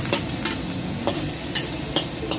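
Noodles fry in hot oil for fried noodles, a steady crackling sizzle broken by regular scraping spatula strokes about every half second, fairly quiet and close, with no talking.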